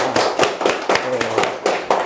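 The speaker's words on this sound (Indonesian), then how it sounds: "kasih tepuk tangan dulu toh" An audience at a Ramadan religious study gathering claps to welcome the speaker, a brief bout of loud, close, rhythmic hand claps with a slightly thumping quality.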